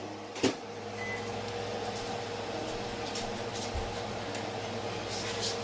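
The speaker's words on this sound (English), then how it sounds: "Just pop it up in the microwave." A steady low mechanical hum of a microwave oven running, constant and close, with a brief thud near the start.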